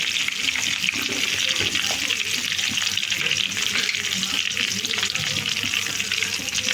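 Chopped onions frying in oil in a pan for tomato thokku give off a steady, loud, dense sizzle that holds unbroken throughout, with faint stirring beneath it.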